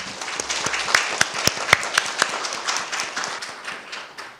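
Applause for the panelists at the end of an academic conference session, a brief round of scattered hand claps from a modest audience, distinct individual claps rising then thinning out over a few seconds.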